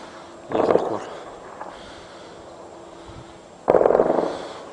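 Heavy shelling and gunfire on the town of Khirbet Ghazaleh in Daraa: two loud, broad blasts or bursts about three seconds apart, each lasting a fraction of a second, over quiet background with no talk.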